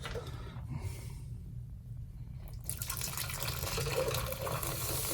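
Water gushes and splashes into a sink clogged with baking soda, a steady rushing pour that swells louder partway through, close by, with no talking.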